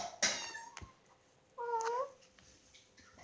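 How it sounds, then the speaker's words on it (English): Two short meows from a kitten exploring a house, one brief cry early and a clearer, longer one a second later, fairly close with quiet room tone between. "Two little meows."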